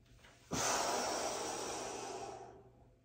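One long, close in-breath during a guided breathing exercise, starting abruptly and slowly tapering off over about two seconds with no voice over it.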